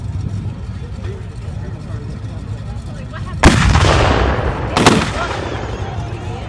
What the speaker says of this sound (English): Now we're starting to lay cover fire.